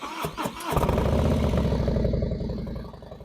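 A 2025 Harley-Davidson Low Rider S fitted with a Bassani 4-inch slip-on muffler starts up with a few cranking pulses, then settles into a loud, deep, steady idle close to the microphone.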